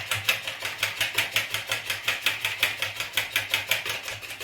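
Rapid rhythmic whisking of mayonnaise in a bowl as mustard and oil are beaten together, a quick, even series of close clicking strokes at roughly five per second, with no talking.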